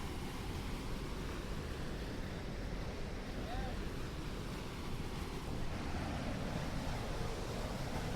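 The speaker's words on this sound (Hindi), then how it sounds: "ये सीवरेज का पानी साफ दिखाई दे रहा है गिरते हुए" Sewage water pours from a drain into the Yamuna River beneath a metro bridge between ITO and Sarai Kale Khan, a steady, continuous rushing wash of falling water that stays even and fairly loud throughout.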